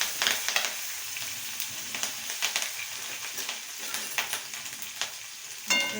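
Cumin, curry leaves, asafoetida and chillies crackle in hot oil on a low flame for dal pakwan, a steady close sizzle with sharp pops and a few spoon scrapes, loudest at the start and again near the end.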